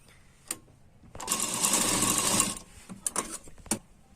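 Sewing machine stitching a half-inch seam on a double katori blouse shoulder: a single burst of rapid, buzzing stitching lasting just over a second, framed by a few quiet clicks and taps of fabric handling.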